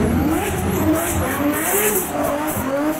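A Nissan Silvia drifts at Hyvinkää, its engine wailing at high revs under a continuous loud tire squeal, close and sustained with rising and falling pitch.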